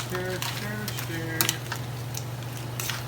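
Lobster dish stirred in a pan with a utensil, soft scraping and clinking over a constant low hum, close by, with a voice talking briefly at the start.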